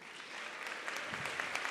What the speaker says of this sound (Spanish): Un aplauso, por favor, para Yolanda Reyes,